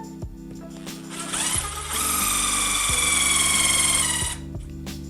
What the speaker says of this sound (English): we're just gonna pre-drill a hole